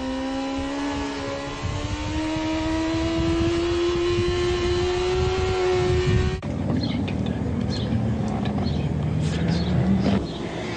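A sport motorcycle being ridden, its engine droning steadily with pitch slowly climbing as it accelerates, then switching abruptly to a rougher, noisier rush of engine and wind. No one speaks.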